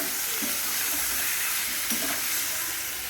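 Jackfruit curry being stir-fried in a pan, a dense steady sizzle and hiss close up with faint clinks of a spatula against the pan.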